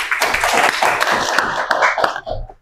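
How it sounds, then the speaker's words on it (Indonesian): A brief burst of dense clapping from an audience at a school-style gathering, close and loud, with rapid overlapping hand claps that thin out and stop after a couple of seconds. "beri tepuk tangan."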